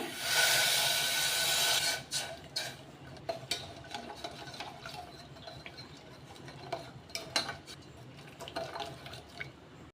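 Water poured into a pan with jaggery on the stove, a brief gush followed by quiet hissing, bubbling and occasional scrapes and clinks as it heats, close by with no talk.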